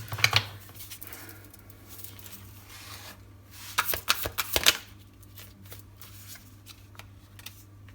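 Tarot cards shuffled by hand during a reading, a soft riffling patter with a few sharper bursts of card flicks, close and fairly quiet with no talking.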